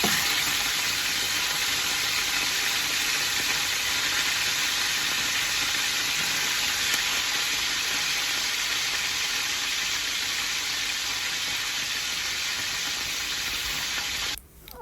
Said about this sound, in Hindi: मैं इसमें चिकन डाल दूँगी और इसको कर लूँगी फ्राई